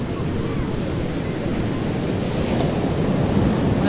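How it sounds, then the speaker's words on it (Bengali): Ocean surf breaking on Puri beach on a cloudy morning, a continuous broad roar of waves that swells slightly toward the end, with some wind noise over the microphone and no speech. "এই যে সাগরটা সামনে দেখছেন"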